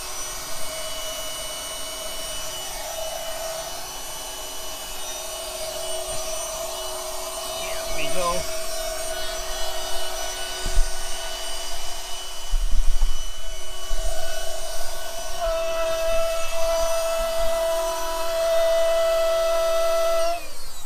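Electric air pump droning harshly while inflating a car mattress, a steady mechanical whine with shifting tones and occasional bumps and clicks, fairly close and continuous, with a person talking over it at times.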